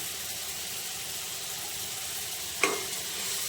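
Tomatoes with turmeric sizzle steadily in a pan, a constant frying hiss with a single sharp clink of a utensil being stirred through near the end.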